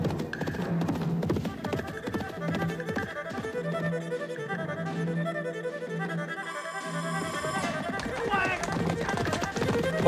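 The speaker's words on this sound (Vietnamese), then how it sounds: "Ôi ngựa của ta." Horse hooves clip-clop in a quick rhythmic gallop, a repeated clatter under music and voices in a period drama scene.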